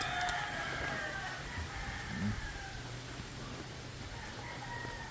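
Roosters crow faintly in the distance over a steady outdoor hum on the coast at Puerto Galera, Philippines, with a few brief clucks and calls.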